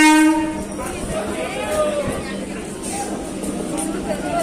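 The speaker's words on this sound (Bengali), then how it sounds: "ট্রেনও চলে আসলো" A train pulls into a station platform, opening with a short horn blast and then a steady rolling rumble and rail noise. Voices talk throughout over the train.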